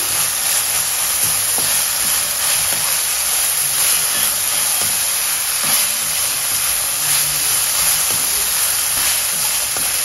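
Three green chillies slit down the middle sizzle in hot oil in a pan for sambar, making a loud, continuous close-up hiss with faint crackles and no voices throughout.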